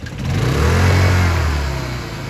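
The Honda engine on a Holmatro hydraulic rescue-tool pump starts on a light pull with the choke on and high revs set. It quickly revs up into a loud, rising roar, then settles into a steady run over about two seconds.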